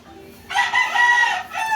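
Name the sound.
Black Hat chickens with pea comb crowing and clucking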